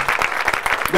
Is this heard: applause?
yes